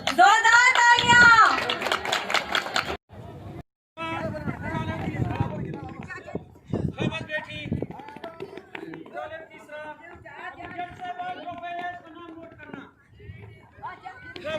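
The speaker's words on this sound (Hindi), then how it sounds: "जोरदार तालियां।" A crowd at a sports gala opening ceremony in Quetta claps loudly in bursts, mixed with chatter, children's voices and a loud announcer talking, with brief quiet gaps between stretches.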